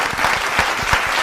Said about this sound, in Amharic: አንድ ጊዜ ሞቅ ያለ ጭብጨባ